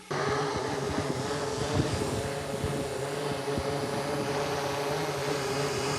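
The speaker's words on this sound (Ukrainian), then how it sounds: "Слідом злітає FPV" An FPV drone lifts off and flies, its motors making a continuous, fairly loud buzzing drone with a steady tonal whine that starts abruptly and holds evenly throughout.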